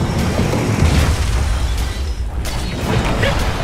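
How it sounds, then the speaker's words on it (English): A tower collapsing in the Dota 2 game, a thick rumbling crash of booms and crumbling debris that rolls on for several seconds, loud and close. "Dire's top tower has fallen."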